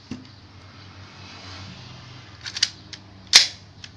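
A 1911-style air pistol firing 0.2 g BBs gives a few sharp, dry snaps near the end, two close together and one louder crack, over a quiet low background hum.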